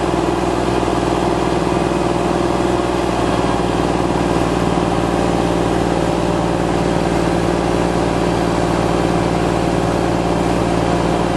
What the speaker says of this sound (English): He signals to the driver operator to bring the engine to idle.